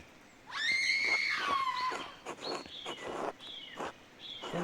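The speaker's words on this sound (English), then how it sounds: "Who screamed?" A scream in the video game Pentiment, a loud, long rising and falling shriek followed by several shorter high cries, close and clear with no talk over it.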